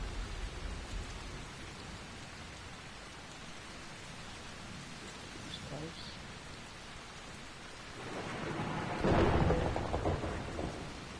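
Rain and thunder in a storm from the video game Dying Light: steady rain hiss throughout, with a louder rumbling thunder swell building near the end.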